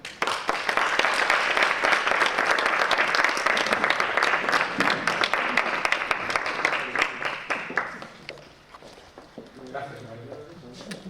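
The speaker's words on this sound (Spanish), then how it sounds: "Un aplauso." An audience at an education conference applauds in a dense, sustained burst that fades away after about eight seconds, followed by a speaker talking.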